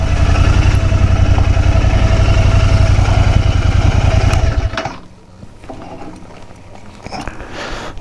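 Royal Enfield Interceptor 650 motorcycle idling up close with a loud, even, thumping rumble for about five seconds before it shuts off, leaving quiet background shuffling and faint ambient noise.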